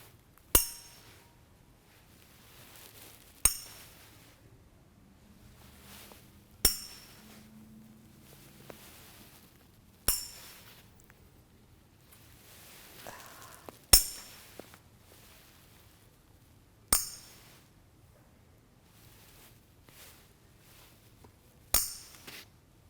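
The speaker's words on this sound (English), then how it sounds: "I'm going to tap these spoons" Seven sharp metallic clinks of spoons tapped together, evenly spaced a few seconds apart, each ringing briefly against a quiet background.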